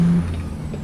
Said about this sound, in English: We're slamming brakes in the middle of the road for no reason.